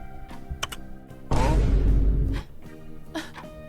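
A short burst of typing on a computer keyboard, brisk and close, with a few scattered key clicks before and after.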